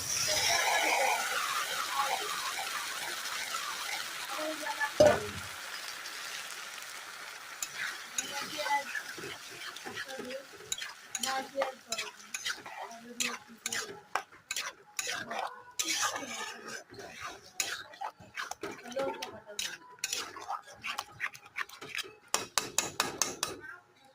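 Spice masala for egg curry fried and stirred in a pan, a soft sizzle followed by a long run of rapid metallic scraping and clinking of a spoon against the pan, close and uneven, without talk.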